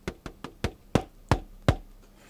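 A synthesized Karplus-Strong resonator patch with two all-pass filters and a dampening filter in its feedback loop, giving seven sharp, knock-like plucked hits in an uneven rhythm, each decaying quickly, close and clear with no voices.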